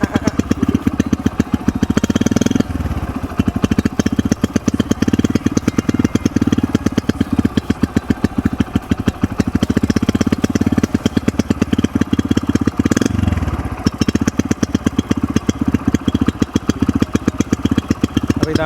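Modified Splendor motorcycle with a Foldex silencer exhaust, engine running close up with a rapid, loud, steady popping thump that swells briefly with throttle blips, no voices.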